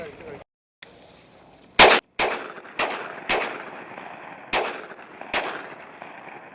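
Shotgun blasts on a pheasant hunt outdoors, about eight sharp reports spaced irregularly over several seconds, loud and close with echoing decay after each, and no clear talking between shots.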